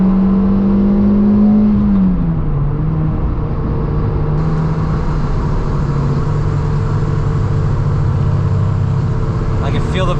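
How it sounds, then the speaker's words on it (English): A car engine heard loud and close, a steady droning whir that drops in pitch early and then holds an even hum, like a vehicle driving on a wet road in torrential rain. "I can feel the vibrations coming from that car"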